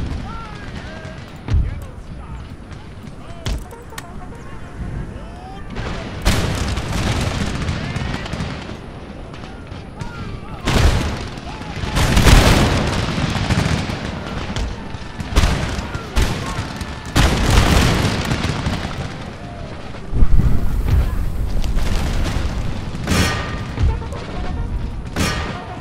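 In an Empire Total War battle, volleys of musket and artillery fire burst out in loud, irregular booms, clustered in waves, with a voice talking in between.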